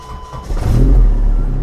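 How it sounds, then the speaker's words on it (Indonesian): An Opel Blazer's engine cranks and catches, settling into a loud, close, steady idle rumble after a short quiet moment. "Kita akan start untuk engine-nya"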